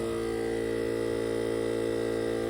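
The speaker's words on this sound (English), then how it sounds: "A little portable wind maker right there." A steady mechanical drone with a low hum and buzzing overtones runs unbroken throughout, close and fairly loud, like a small air compressor motor working.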